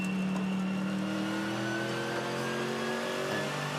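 A GT race car at the Bathurst 12 Hour endurance race drives into pit lane, its engine a loud, steady drone with rising harmonic tones as it runs on, close and continuous with no talk over it.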